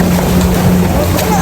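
Steady wash of water and rumbling engine noise from a boat moving through waves, continuous and fairly loud, with no clear speech.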